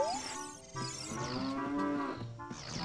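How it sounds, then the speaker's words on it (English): In Ocarina of Time Reloaded, a cow moos in the game: one long, loud, drawn-out low moo with a rising and falling pitch, heard clearly on its own without speech. "We've got some horses, we've got some cows."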